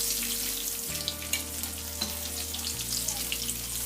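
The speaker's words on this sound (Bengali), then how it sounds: "দেখুন, দুপাশ ব্রাউন কালার করে আমি ভেজে নিয়েছি" Eggplant slices fry in hot oil in a pan, giving a continuous close sizzle with a few soft clicks and a low background hum, and nobody speaks.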